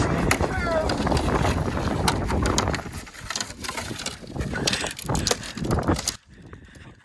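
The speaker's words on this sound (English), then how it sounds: "it's really windy out here" Strong wind buffets the microphone in a constant loud roar with gusty surges, easing briefly near the end.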